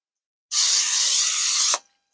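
Cooking spray sprayed into a cake pan for an almond cake, one loud, close, steady hiss lasting just over a second, then a brief start of a second burst.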